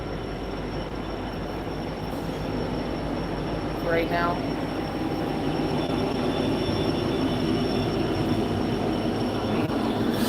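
A train rolls past continuously in the background, a steady low rumble of wheels on rails with a brief squeal, while a person talks briefly over it.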